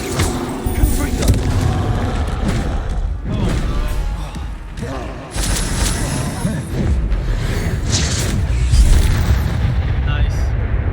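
Fiery Confringo spell blasts in Hogwarts Legacy during combat: booming, crashing explosions in quick succession over continuous game sound and music, with a voice speaking in places.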